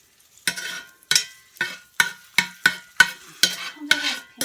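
Food frying in a hot pan in the corner of the cooking surface for beef and broccoli, with loud rhythmic bursts of sizzle and stirring scrapes about every half second, close up, with no talking.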